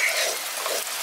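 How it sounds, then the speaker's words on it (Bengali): Mustard paste being stirred into a village-style bata fish curry in an oily pan, a continuous close frying sizzle with soft stirring scrapes, no talking. "এবার এর মধ্যে আমি সর্ষে বাটাটা দিয়ে দিচ্ছি। ভালো করে মিশিয়ে দিচ্ছি।"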